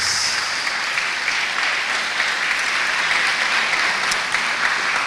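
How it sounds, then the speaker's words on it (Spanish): A church congregation claps loudly for a sustained stretch, a bright, dense spatter of many hands holding steady throughout with no voices standing out. "Le damos un aplauso fuerte al Rey de Reyes."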